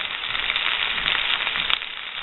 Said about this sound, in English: Those beans are frying pretty good now.